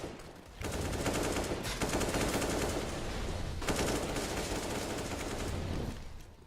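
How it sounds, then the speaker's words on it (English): Dense automatic gunfire from a competitive esports shooter match on the Train map, with sustained rapid bursts that fill nearly the whole stretch and break off in two brief pauses. "Much gunfire."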